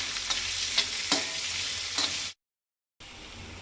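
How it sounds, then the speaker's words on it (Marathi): Garlic and three sliced onions frying in oil on a tava crackle in a close, steady sizzle with a few stirring clicks, broken by a brief gap of silence before the sizzle resumes. "लसूण आनी कांदो आतां बरो तळसून घेवपाक जाय।"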